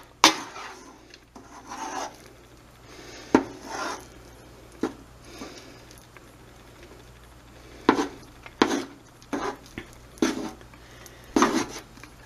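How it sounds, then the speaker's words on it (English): A spoon scraping and rubbing through thick walnut fudge in a pot, a string of rough, gritty strokes that come in bursts with short pauses, close and fairly loud, with no talking. "Just get a good stir going. It's gonna be a rough stir, you guys. This is a thick fudge."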